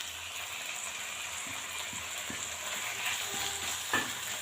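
Finely chopped boneless chicken fries with onions in a pan, a steady, fairly quiet sizzle with occasional light stirring clicks and scrapes, no voices.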